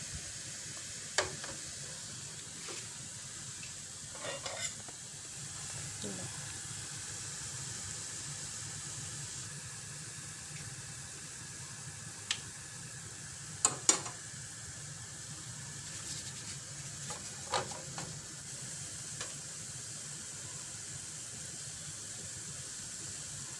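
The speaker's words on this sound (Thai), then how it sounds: "ทอดให้เหลืองเลยนะคะ" Khanom dok jok batter deep-frying in oil makes a quiet, steady bubbling sizzle with occasional faint clinks and taps over its long run.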